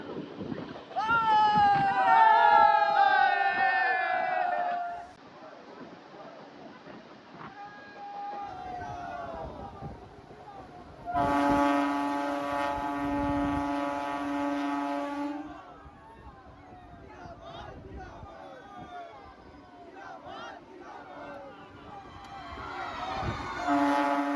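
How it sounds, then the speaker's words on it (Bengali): A MEMU train on its inaugural Purulia–Howrah run via Bankura rumbles past, its horn blaring loudly for several seconds in the middle, with people talking and a crowded station around it. "ট্রেনের চাকা লেবু বার করে গড়ালো"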